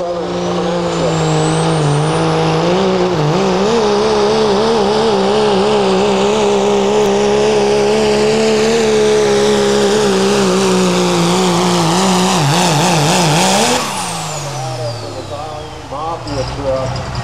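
Pro street diesel pickup truck 'Way Southern' pulling a sled at a Versailles, Kentucky truck pull, its engine droning loud and steady for about fourteen seconds with wavering pitch, then cutting off sharply, with an announcer talking over the engine.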